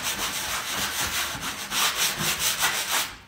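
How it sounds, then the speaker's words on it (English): Sanding block rubbed back and forth over wood veneer gives a close, rhythmic scratchy rasp of repeated strokes, steady and moderately loud, with no voices. "So now I'm just gonna take my sanding block,"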